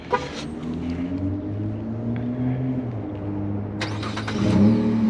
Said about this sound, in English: Ooh, that was a nice little cold start almost.